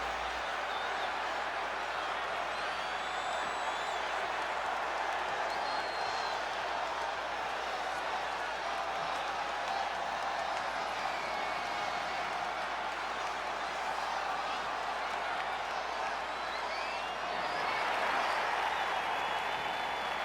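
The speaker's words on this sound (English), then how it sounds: "Listen to this crowd, guys. They're fired up for this one." Arena crowd in the WWE 2K20 wrestling video game, a steady, loud roar of cheering and applause that holds for the whole stretch and swells slightly near the end.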